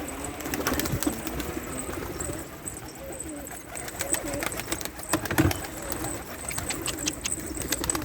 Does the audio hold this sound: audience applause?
no